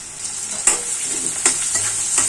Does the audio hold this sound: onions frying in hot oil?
yes